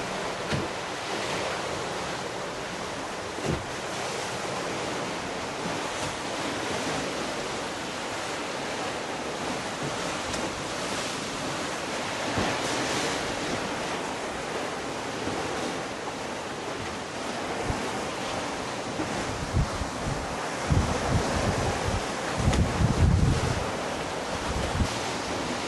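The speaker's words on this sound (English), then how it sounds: "Of course, because there's big waves, there's another big one." Big ocean waves rush and break around a Nautitech 40 sailing catamaran at sea, a steady broad hiss of churning water with wind, swelling into heavier surges toward the end, moderately faint and without voices.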